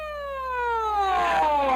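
Police car siren wailing close by, a single long falling tone sweeping steadily downward and growing slightly louder as it goes.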